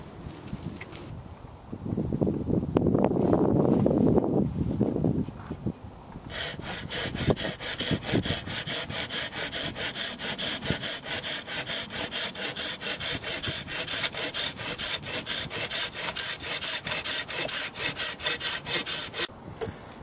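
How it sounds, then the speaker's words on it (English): A hand saw cuts lengths of wood outdoors, starting with a few heavy rasping strokes and then settling into a long run of quick, even back-and-forth strokes, close and loud, with some wind. "cut two lengths of wood that are pretty straight"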